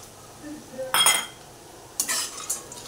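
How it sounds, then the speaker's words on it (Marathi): A spoon stirs fried sandge into masala in a pan, giving two short bursts of scraping clinks against the metal, with quiet pauses between them. "आता हे चांगले मिक्स करायचे आहेत आपण मसाल्यामध्ये वगैरे आणि गॅस आपला कमीच करायचा आहे"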